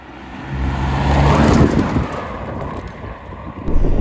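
A 2025 Alfa Romeo Stelvio Quadrifoglio on the move, a steady low engine and road rumble that swells and then holds, with wind buffeting across the microphone and no voices.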